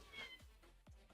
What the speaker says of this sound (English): there's a cat who's stuck at the door